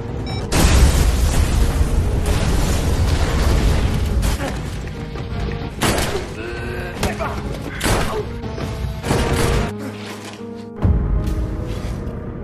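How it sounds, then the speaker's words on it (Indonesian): Explosions in a Korean action film come as heavy booms and bursts with crackling debris, several loud blasts layered over a dense roaring soundtrack, with a brief dip before a final thump. "Akhirnya tempat itu pun diledakkan sebagai upaya terakhir untuk mengatasi kegagalan tersebut"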